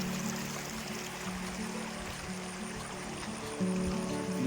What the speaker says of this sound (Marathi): हा वाहणारा ओढा